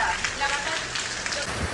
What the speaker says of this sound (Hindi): खतरनाक बारिश हो रहा है, बहुत जबरदस्त।